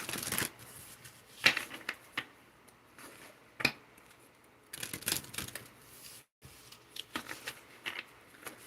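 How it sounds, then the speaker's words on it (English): Nature Seasons oracle card deck being shuffled by hand, several bursts of riffling and flicking cards separated by short pauses, close and fairly quiet with no talking. "One more shuffle."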